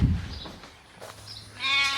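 Sheep bleat in a small pen on a farm, with a short faint call near the start and a louder, drawn-out bleat toward the end, both clear and close with no talk over them.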